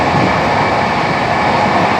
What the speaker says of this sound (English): the train is moving with the speed of close to 140 kilometers per hour